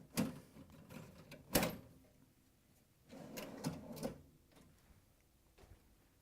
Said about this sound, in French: Le clac signifie que le verrouillage est effectué.